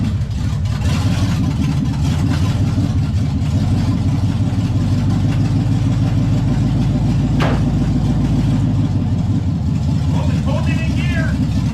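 A fuel-injected 1954 Chevy Bel Air rat rod engine runs steadily and loudly up close, a dense low rumble that needs tuning, with a brief sharper noise near the end.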